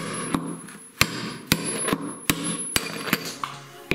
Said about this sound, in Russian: Вот, выбиваем подшипники.